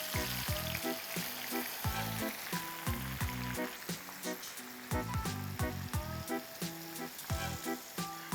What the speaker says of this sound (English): Let's start frying in small batches.